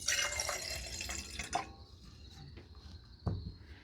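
Water is poured into a container while preparing a caffeinated drink during driveway camping, a bright splashing pour for about a second and a half, followed by quieter dribbles and a couple of soft knocks.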